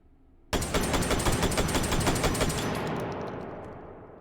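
A SPAS-15 shotgun fitted with a muzzle brake, fired in the VR game H3VR: a sudden loud onset, then a rapid, dense string of blasts lasting about two seconds before fading into a ringing tail.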